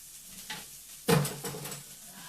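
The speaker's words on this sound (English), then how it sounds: "you just scrape all the stuff out" A scraper clears leftover food from a cast iron skillet in one loud, close metallic scrape followed by a few softer scratching strokes.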